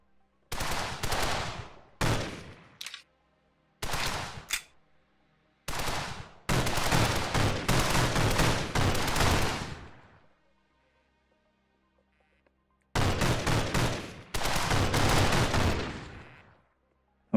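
Bursts of blind gunfire in a video game, loud rapid volleys separated by short silences, with one long sustained burst and a final burst after a quiet gap.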